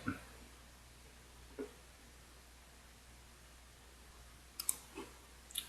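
Soft mouse clicks while signing up on a community website, a few faint isolated clicks spread out over a quiet background hiss.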